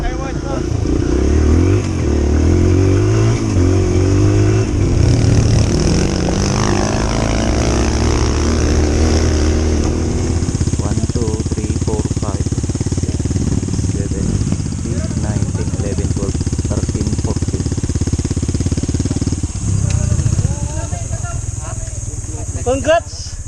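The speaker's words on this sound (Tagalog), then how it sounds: "Ganda ng motor." A motorcycle engine on a mountain trail ride in Itogon, Benguet rumbles steadily throughout, revving and settling toward idle, with people talking over it.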